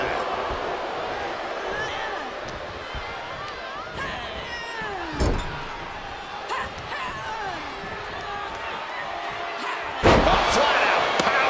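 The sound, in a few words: wrestling scoop slam impact in a wrestling video game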